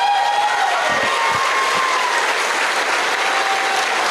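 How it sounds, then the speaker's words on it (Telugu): Loud, dense audience applause at a Vestige team business session, a continuous roar of many hands clapping close by that runs unbroken throughout. "సార్కోసారి గ్రాండ్ క్లాప్స్"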